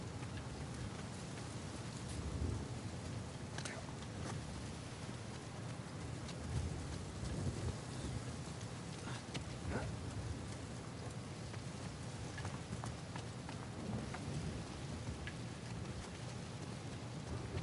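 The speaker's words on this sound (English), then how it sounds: "It's about to storm?" Rain pours steadily in an Uncharted video game as a storm gathers, a dense continuous patter with scattered louder drops and faint distant rumbles, no talking.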